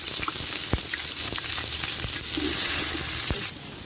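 Big onions dropped into a hot pan with cardamom, crackling in a loud, bright frying sizzle with small pops and clicks before the sound drops off abruptly near the end.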